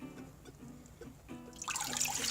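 Tap water splashes and trickles into a clean, disinfected snake water bowl, a quiet close pour that swells into a brighter gush toward the end.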